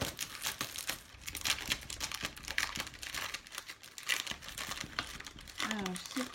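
Plastic packaging around a craft cutting mat crinkles and crackles as it is unwrapped close up, with a continuous run of rustling, a few tearing sounds and a voice speaking in the background.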